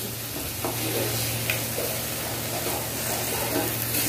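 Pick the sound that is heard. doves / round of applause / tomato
tomato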